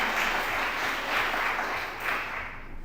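Audience applause fills a hall at the Arkansas State Capitol, a steady wash of many hands clapping at moderate distance, swelling and easing in waves over a few seconds with no voices on top.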